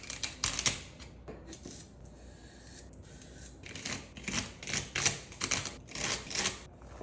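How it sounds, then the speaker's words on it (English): A knife dices celery on a cutting board with quick bursts of crisp, rapid chops and short pauses between runs, close and fairly quiet. "And now the celery, I'm gonna cut the ends off and then I'll just cut them in half and dice them up."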